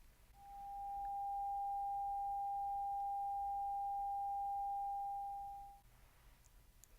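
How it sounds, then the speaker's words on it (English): A steady 800 Hz sine-wave beep from a hearing test, a pure single tone fading in softly, holding for about five seconds and fading out, over faint background hiss with no talking. "Again, this is 800 Hertz."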